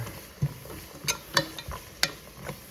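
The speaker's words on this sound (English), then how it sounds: "I'll stir these vegetables in a little bit." A spoon stirs vegetables in a soup pot with a few sharp, faint clinks and scrapes, spaced irregularly over a low background. Nobody talks.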